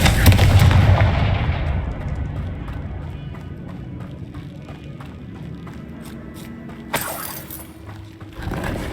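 In the Hogwarts Legacy video game, a Confringo blasting spell explodes in a loud, booming burst that decays into a long rumbling tail, and a sharper crack follows near the end.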